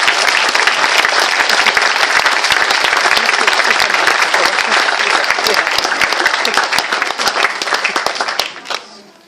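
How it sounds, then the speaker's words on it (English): Loud, dense round of applause from a crowd at a football club's end-of-season awards ceremony, continuous clapping at full strength that tapers off abruptly near the end. "So Lions, big round of applause"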